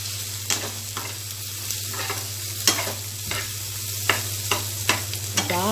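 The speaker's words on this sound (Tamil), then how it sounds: "நம்ம அடுப்பை ஆஃப் பண்ணிவிட்டு இந்த பொடியை போட்டதும் கிண்டி விடுங்க," Onion chutney with red chili powder being stirred in a pan off the heat, a spoon scraping in irregular strokes over a soft steady sizzle, close and alone.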